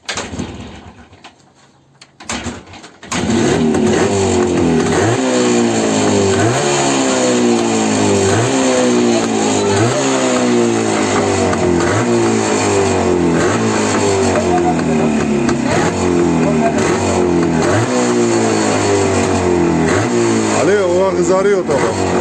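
An old Jawa motorcycle engine, idle for seven years, catching after a few quiet seconds and then running loud and close with rhythmic rising revs that repeat throughout.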